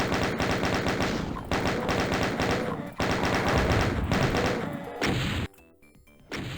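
Rapid bursts of gunfire from the video game Doom 2, fired at revenants on a platform, loud and dense with repeated clattering shots in several volleys separated by brief pauses, ending in a quieter gap before a final burst.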